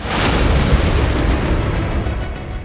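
Strikes on Iranian army bases in Isfahan set off loud, sustained explosive rumbling, a steady roar of booms and bursts that carries throughout with no voices heard.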